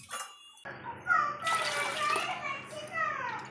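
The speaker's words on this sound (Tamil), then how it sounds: "தண்ணி ஊற்றிக்கலாம்" Water pours steadily into a container of dissolved tamarind for rasam, a splashing, gurgling stream running under a nearby voice.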